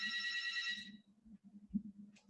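A phone ringtone trills for about a second, a bright warbling electronic tone that then cuts off, followed by a low hum and faint handling noise while the room is otherwise quiet.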